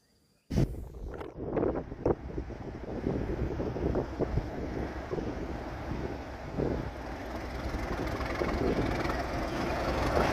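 A Class 37 diesel locomotive runs past outdoors with a steady, loud rumble that swells toward the end, mixed with wind buffeting the microphone.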